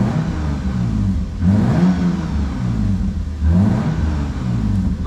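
Lexus IS350 V6 revving under load through a newly installed aftermarket exhaust, a loud, steady drone with two surging rises in pitch as it pulls hard, close by with no talking.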